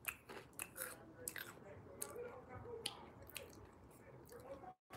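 A crunchy, shrimp-smelling puffed snack is chewed close to the mic, with quiet bites and several sharp crackling crunches spaced irregularly over a few seconds.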